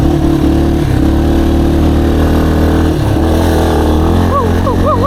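A dirt bike engine drones and revs continuously on a trail, loud and close with a steady low tone, while a rider's voice is heard over it.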